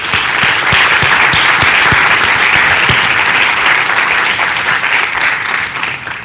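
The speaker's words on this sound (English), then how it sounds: "Give yourselves a round of applause." An awards ceremony audience gives sustained, loud applause, a dense crowd of clapping hands that holds steady and then slowly thins toward the end, with no talking over it.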